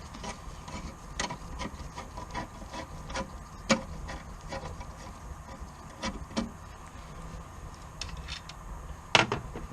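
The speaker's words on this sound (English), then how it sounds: "take our Phillips head screwdriver and remove this clamp" A Phillips screwdriver works a clamp loose inside lab equipment, giving close, irregular scraping and creaking clicks at a steady working pace, with a sharper knock near the end.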